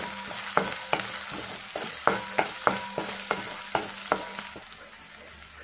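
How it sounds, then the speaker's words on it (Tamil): Onion sautéing with salt in a pan for a plantain stir fry, a continuous sizzle broken by a regular series of sharp scraping stirs, roughly one or two a second, close up with no talk. "வெங்காயம் நல்லா வதங்கிறதுக்கு கொஞ்சமாக உப்பு சேர்த்துக்கலாம்."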